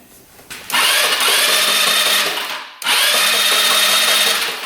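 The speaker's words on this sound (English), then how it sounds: "now we can rotate the engine over" A free used scooter's engine is cranked over by its starter in two loud whirring bursts, each a steady high-pitched motor spin, separated by a brief pause.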